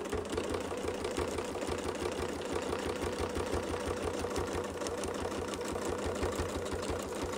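Machine quilting on a sewing machine guided by a Westalee Design Mini Baptist Fan template, giving a fast, steady needle rhythm that runs continuously and loudly without pause.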